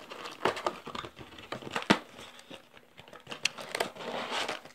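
Plastic wrapper of a Yu-Gi-Oh trading card booster pack being crinkled and torn open up close, with several crackling tears and rustling bursts spread across a few seconds.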